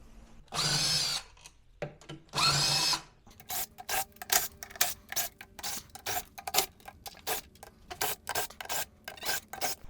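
Power drill backing bolts out of a 48V lithium golf cart battery case: two long, loud whirring bursts, then a rapid run of short clattering, scraping bits of handling nearby.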